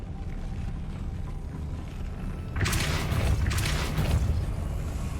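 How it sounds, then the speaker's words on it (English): In Hogwarts Legacy, a Depulso spell strikes with a sudden broadband whoosh and rumble that swells and surges twice over a steady low background, with no talking. "Depulso."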